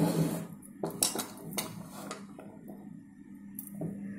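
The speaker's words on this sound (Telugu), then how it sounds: "ఈ మామిడికాయ ముక్కలు వేసి తిప్పాలి." Cut raw mango pieces being stirred in a metal pot for Andhra mango pickle, a close run of scraping and clinking utensil knocks with brief pauses between, and no talk.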